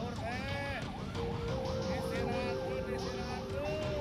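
An ambulance siren wails in the background of busy motorbike street traffic in Indonesia, its rising and falling tone partly masked by a dense roar of engines and road noise.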